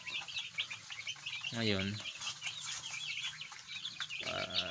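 Backyard chickens, including brown Dekalb hens, cluck and chatter continuously at close range, with a louder rooster-like call in the middle and a brief spoken word near the end.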